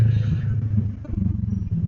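Honda ADV 160 scooter engine with its muffler, a low rumbling exhaust burble close by, rising into a rougher revving pulse partway through.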